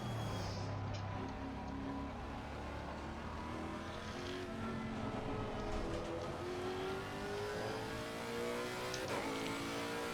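A race car engine on the Nurburgring in a racing game holds a steady, loud drone under throttle, its pitch climbing smoothly through the gears, with other cars faintly audible nearby.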